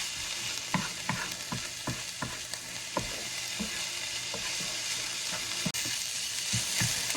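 Garlic sautéing in a pan while making Cajun-style shrimp-stuffed poblano peppers, a steady close sizzle with soft rhythmic stirring taps throughout and no voices.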